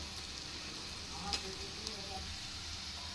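Onions fry with ginger garlic paste in a pan for a broad bean and tomato curry, giving a steady, gentle sizzle and crackle with a couple of faint clinks as the mixture is stirred, no one talking.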